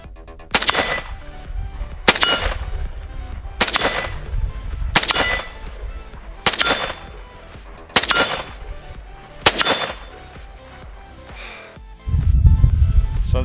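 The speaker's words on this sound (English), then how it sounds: "we're just test firing the VZ58 here in 223 caliber" Repeated single rifle shots from a VZ58 chambered in .223 topped with a Bushnell TRS25 red dot, seven sharp loud cracks spaced roughly 1.5 seconds apart outdoors, each with a brief ringing tail, then a rumbling scuffle at the end.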